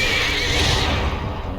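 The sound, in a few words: horse neighing in the video game Lord of the Rings Online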